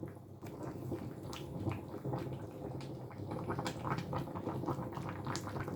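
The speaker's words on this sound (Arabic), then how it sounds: "الطاجين كيعطيه واحد السخونيه يعني مزيانه باش السلاوي تيطيب على خاطرو" Moroccan pumpkin tagine simmering in a pot on the stove, giving a continuous soft bubbling and crackling hiss with small irregular pops throughout, steady and close.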